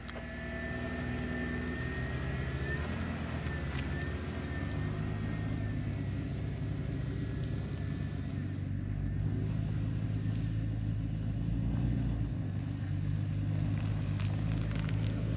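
A heavily loaded vehicle grinds up a muddy mountain track under its own power, no winch, tires caked in mud, hauling a toilet to the summit; a steady, loud low engine rumble continues throughout with faint voices.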